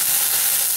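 Alcohol burning off in a hot pan while a New York strip steak is blackened: a loud, dense, steady sizzle and hiss with no break.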